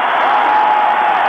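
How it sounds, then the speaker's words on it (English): A packed arena crowd roars at Purdue's home college basketball game against Indiana in 1994, a loud, dense and unbroken wall of cheering that sounds close and fills the whole space. "this crowd is going nuts"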